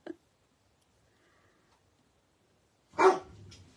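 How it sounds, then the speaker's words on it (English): Dogs barking indoors, a short sharp yip at the very start, then a silence, then a loud burst of barking that trails off into softer noise. "And of course the dogs want to bark."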